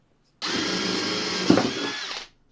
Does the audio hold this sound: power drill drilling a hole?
yes